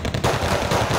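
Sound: machine gun fire in video game

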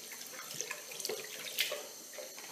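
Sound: rinsing hands and face scrub under a tap

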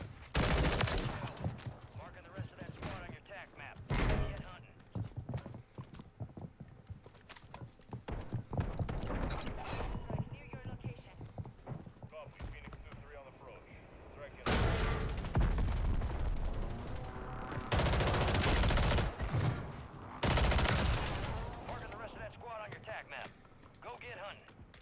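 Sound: fully automatic M16 gunfire in video game Warzone

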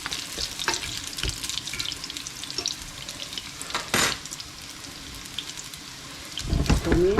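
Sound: kebab frying in hot oil

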